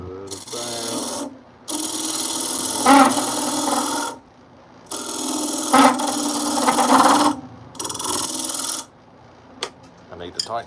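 A wooden game call being filed by hand to carve a finger groove, with loud rasping strokes in several long bursts separated by short pauses and a few light knocks at the end.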